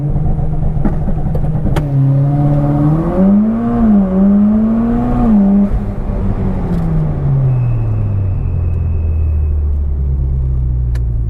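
Car with a new turbo doing a launch-control start in Super Sport mode: a loud, close engine holds revs, then surges and climbs steeply before easing off into a falling drone.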